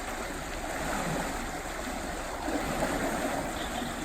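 A canal lock fills with water, a continuous rushing, churning flow at steady moderate loudness with no break.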